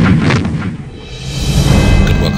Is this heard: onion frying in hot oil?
no